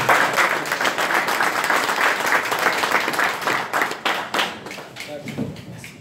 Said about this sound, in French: qu'on applaudisse s'il vous plaît